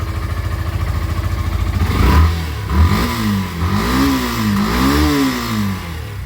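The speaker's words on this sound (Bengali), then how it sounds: "এটা হচ্ছে বাইকের সাউন্ড আপনাদেরকে শোনালাম।" A Suzuki Gixxer Monotone 2025 motorcycle engine idling with a rapid, even putter, then revving up and down in several swells, loud and close.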